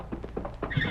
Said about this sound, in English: Did you hear that horse, Kimo?